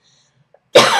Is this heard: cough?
yes